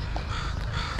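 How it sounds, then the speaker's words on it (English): Crows cawing on a British Columbia shoreline, a dense, harsh chorus of many birds close by, calling continuously without a break over steady outdoor noise. "There's clearly lots of food because there's a million crows."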